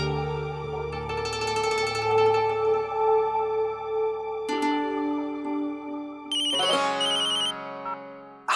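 An electronic phone ringtone plays a melodic, tonal pattern up close, repeating with shifting chimes and no voices.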